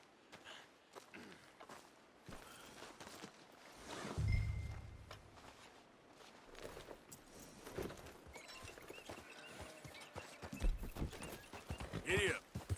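Horse hooves in the video game Red Dead Redemption 2, soft clip-clopping steps with a snort, mixed with game sounds and someone talking over them.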